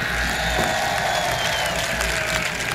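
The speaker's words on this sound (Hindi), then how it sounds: "एक बार जोरदार ताली करौली प्रशासन के लिए।" A large crowd gives loud, dense applause with some cheering at a public poetry recital event in Karauli, filling the short stretch without a break.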